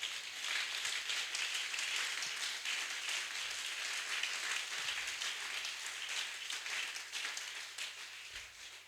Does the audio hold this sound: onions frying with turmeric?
no